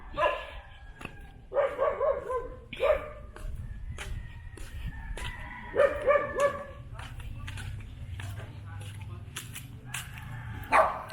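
Dogs bark repeatedly at a moderate distance on a rural Philippine property, bursts of several barks with short pauses and a few higher yips, over a low rumble.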